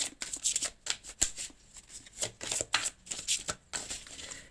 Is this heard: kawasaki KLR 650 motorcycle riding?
no